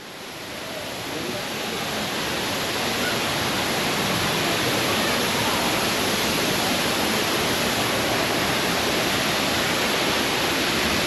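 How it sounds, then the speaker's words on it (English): An indoor waterfall in a zoo's tropical rainforest jungle exhibit pours with a steady, dense roar that swells over the first seconds and then holds loud and unbroken, with no voices. "This is waterfall."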